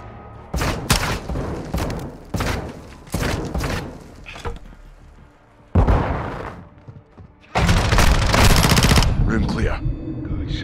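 Bursts of rapid automatic gunfire in Call of Duty: Modern Warfare 2, loud and close, separated by brief pauses, with a sustained heavy barrage near the end.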